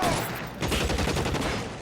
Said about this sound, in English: Do I hear a machine gun in there?